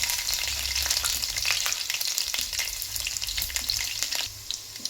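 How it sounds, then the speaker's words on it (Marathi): Mustard seeds and garlic cloves sizzling in hot oil for a tempering, a dense continuous crackle with scattered popping spatters, close and fairly loud, no voices over it. "आता या तेलामध्ये मी थोडी मोहरी घालतो."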